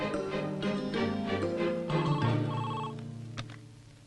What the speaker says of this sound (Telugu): హాస్పిటల్ నుంచి ఫోన్